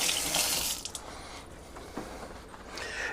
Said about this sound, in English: Let me rinse my hand real quick so I can get some pepper on it.